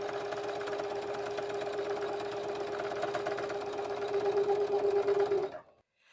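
A sewing machine runs steadily while stitching the binding around a lightweight quilt-as-you-go quilt with mitered corners, a close, even mechanical whir that speeds slightly near the end and then stops abruptly.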